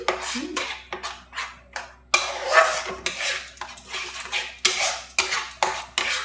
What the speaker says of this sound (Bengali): এটাকে ভালো করে মিশিয়ে নিচ্ছি।